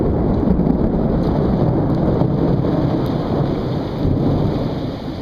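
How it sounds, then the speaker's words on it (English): Loud, steady thunderstorm with heavy rain pouring onto surfaces and deep rolling thunder rumbling throughout, with no voices. "Lots of thunderstorms, big thunderstorms."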